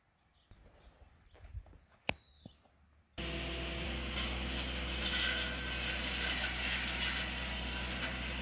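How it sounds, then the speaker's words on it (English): A shelter belt trimmer cuts trees. After about three seconds of faint clicks and rustles, the machine cuts in suddenly with a loud, steady, roaring mechanical noise that carries on to the end. "The shelter belt trimmer has arrived and he's getting right into it."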